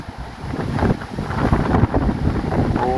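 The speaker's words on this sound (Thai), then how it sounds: "เบิ่งลมไปพี่น้อง" Strong outdoor wind roars steadily and gusts against the microphone, loud and continuous, with no talking.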